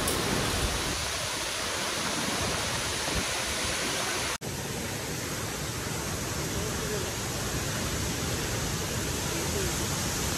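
Spray from a waterfall at Savatsada in the Konkan, heard as a dense, unbroken roar of rushing, falling water, loud and close throughout, with a brief dropout partway through.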